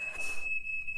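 A smoke alarm shrills with a steady high-pitched tone, loud and continuous through the whole moment, set off by cooking at home, with a faint hiss early on.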